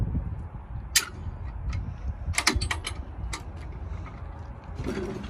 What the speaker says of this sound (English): Open up the pump chamber.